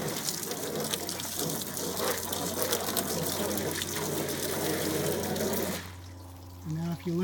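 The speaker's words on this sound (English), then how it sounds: "we're ready to rinse it off with water" Water rinses degreaser off the engine compartment of a 1966 Ford Mustang as a loud, steady gushing spray that cuts off near the end, leaving a quieter moment with a voice.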